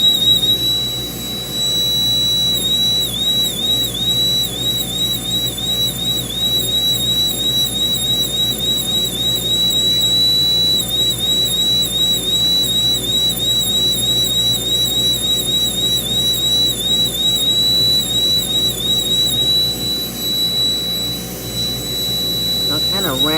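A rotary tool spins a burr against carved ostrich eggshell to smooth it, a steady high-pitched whine with slight wavering as it presses and eases, continuous and close.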